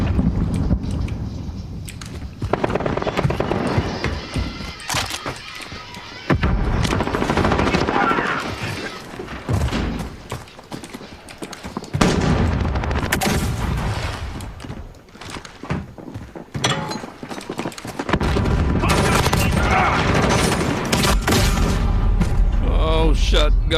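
Gunfire from a Modern Warfare match on PC: bursts of automatic rifle fire and booming shotgun blasts, loud and close, in ragged volleys broken by brief lulls, with a voice talking over the fighting.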